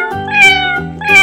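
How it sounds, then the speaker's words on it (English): Cat meowing in two drawn-out, harmonic calls, loud and close, with no other sound around them. "Cat."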